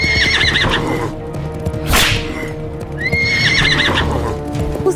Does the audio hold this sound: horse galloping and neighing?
yes